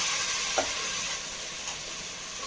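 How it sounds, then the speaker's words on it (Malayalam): Homemade tomato paste, blended from three large tomatoes, is stirred in a frying pan, a steady soft sizzle running throughout with a couple of light spoon scrapes; no talking. "അതും കൂടി ചേർത്ത് വെള്ളമൊക്കെ വറ്റി വരുന്ന വരെ നന്നായി ഇളക്കി കൊടുക്കാം."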